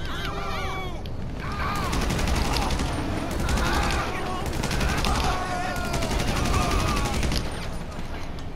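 Gunfire from police pistols in Grand Theft Auto V, a dense mix of repeated shots over a steady loud din, with sirens or whistling tones weaving through and a voice talking now and then.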